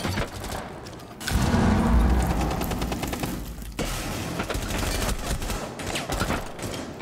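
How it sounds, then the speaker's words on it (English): Gunfire in the Rainbow Six Siege video game comes as dense, continuous automatic bursts. The shots are loud and close, with heavy thuds near the start, and keep going for several seconds without talk. "Okay, so it's Sense out on the balcony, Jaeger shooting"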